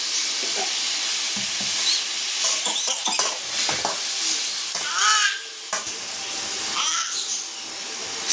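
Onions and tomatoes sautéing with a sprinkle of salt in a pan for Madurai-style mutton salna, a continuous bright sizzle broken by irregular scrapes and clinks of stirring, close up with no talk.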